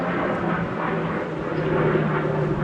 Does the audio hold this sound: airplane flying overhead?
yes